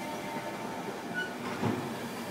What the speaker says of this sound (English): That's now train approaching platform 4